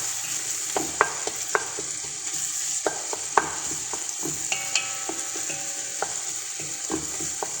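Onions, garlic, ginger and tomato stir-fry for a meat kabsa, a continuous sizzle broken by frequent clinks and scrapes of a spatula against the pan.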